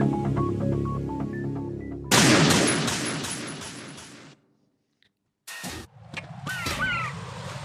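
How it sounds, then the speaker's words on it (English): Gunfire aimed at seagulls in Metal Gear Solid 2, with music giving way to dense bursts of shots, a brief silence, then more shots and bird cries close and loud. "I'm still shooting the birds"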